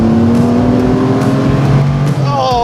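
A TVR Sagaris sports car accelerates hard, its engine droning loudly from inside the cabin with rising and falling harmonic tones as it builds speed.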